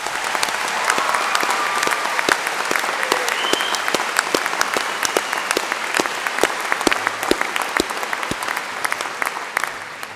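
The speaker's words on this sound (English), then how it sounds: "A round of applause, please." An audience at a university graduation ceremony claps warmly and steadily, dense close applause sustained throughout without any talking over it.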